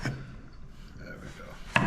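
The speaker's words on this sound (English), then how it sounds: "we're just gonna cut these diagonally" A knife slices diagonally through vegetables on a wooden board, with a faint scrape near the start and one sharp close chop near the end.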